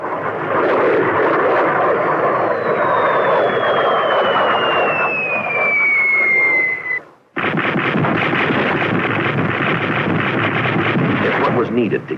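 A military aircraft flies close air support for ground troops, a loud roar with a falling whine as it passes. A short break follows, then another sustained roar mixed with wind-like rush.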